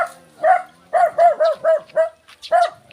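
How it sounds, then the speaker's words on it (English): Several dogs bark in a string of sharp, close barks, about eight in three seconds, in short bursts with brief gaps, at a rural home in a Philippine province. "The dogs are barking."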